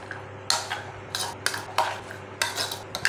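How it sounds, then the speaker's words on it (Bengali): A utensil scrapes and stirs carrots, beans and potatoes into chicken khichdi inside a Geek Robocook pot, giving several short close scraping strokes in an uneven rhythm against a low steady hum. "গাজর, বিনস, আলু, ভালো করে এবারে মিশিয়ে নেবো।"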